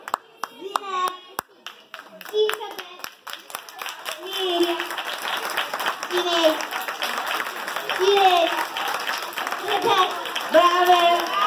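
Audience clapping at a primary school Mother's Day party in Pavignano, a steady patter of hands that builds toward the end, with children's and adults' voices mixed in over the applause.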